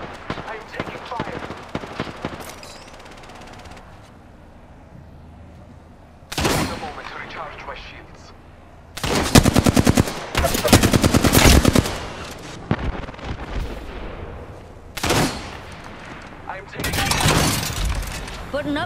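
Rapid bursts of automatic gunfire from an Apex Legends firefight, loud, close volleys separated by quieter stretches, with a voice speaking over parts of the exchange.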